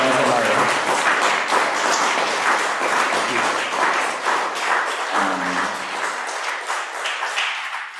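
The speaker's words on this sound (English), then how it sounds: "another big round of applause for Emma McKervey and Lorenzo Mario" An audience at the close of a Winter Warmer 2024 evening event gives a sustained round of applause. The dense clapping holds at an even level for the full eight seconds, and a brief voice-like murmur passes through it.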